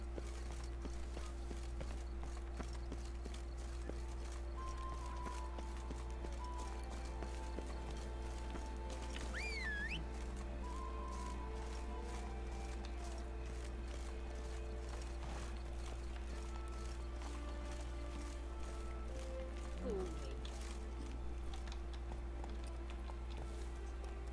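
Hooves of Roach, the horse in The Witcher 3 game, clip-clop at a steady walking pace under a constant low hum, with a brief whinny-like call partway through.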